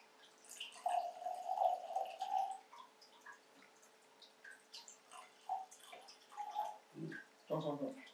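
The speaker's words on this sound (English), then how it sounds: "So we're gonna pour." Liquid trickles and splashes in short bursts as it is poured into glasses, with a brief gurgling pour near the end; quiet voices talk intermittently over it.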